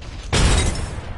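A frag grenade in a video game detonates in one abrupt, loud blast that fills the sound and then decays into a rumbling tail.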